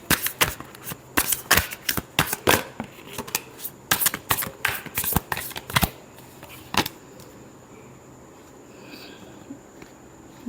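Tarot cards being shuffled by hand in fast, crisp riffling bursts for several seconds, then fading into quiet room noise with a final soft snap.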